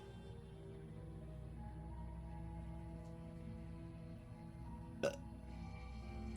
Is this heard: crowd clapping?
no